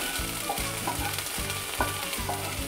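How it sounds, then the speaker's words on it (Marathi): Ginger and green chili paste sizzles in a hot pan with cumin seeds for a fasting-day kheer, a steady crackling fry broken by regular scraping stirs, close and alone without talk. "ही आलं आणि मिरचीची पेस्ट टाकून घ्यायची आहे। थोडंसं परतून घेऊ।"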